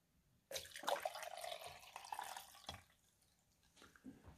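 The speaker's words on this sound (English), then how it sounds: "So you're just going to dump the water in." Water poured into the reservoir of a Toastmaster Coffee Break 510 personal coffee maker, a splashing gush lasting about two seconds, then a few quieter drips and small trickles, nearby and soft.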